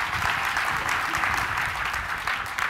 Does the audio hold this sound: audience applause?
yes